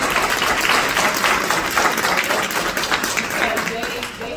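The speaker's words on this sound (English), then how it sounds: "So we should give the mothers a round of applause right here." Audience applause and cheering for the mothers at a community pageant event, loud, dense and close, with voices mixed into the clapping throughout before it eases slightly at the end.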